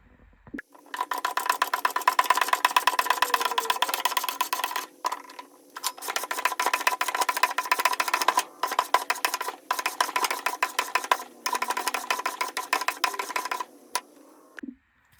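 A table saw rips through a round firewood log, a dense rapid chattering buzz in several long runs separated by brief pauses, loud and close with no voices.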